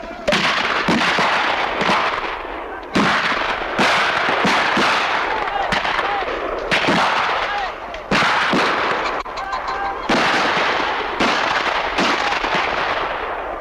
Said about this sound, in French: c'est une suite de coups de fusil comme à la guerre, enfin, qui s'enchaînent de façon extrêmement rapide